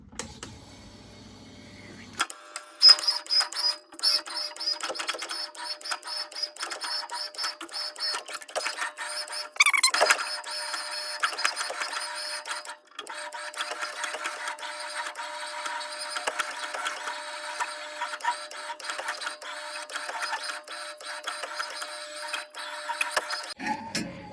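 A Schwartmanns S1 swaging machine stretching 0.8 mm stainless steel, giving a busy mechanical rattling and clattering that starts after a quiet moment, with sharp knocks and a sudden loud burst partway through, steady and fairly close.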